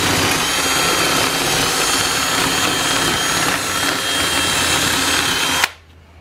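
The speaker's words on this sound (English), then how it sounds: "I'll have to ream it just a little bit to get that thing to fit down in there good" Power tool reaming a heavy weld edge on steel for a homemade cargo trailer cook table, a loud continuous high-pitched grinding whine lasting several seconds before cutting off abruptly into quiet.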